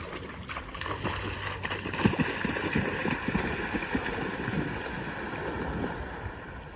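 Wind-driven water laps and splashes along the shore of the Irpin reservoir on a cool, rainy day, a steady broadband wash with soft irregular bursts and microphone wind rumble throughout.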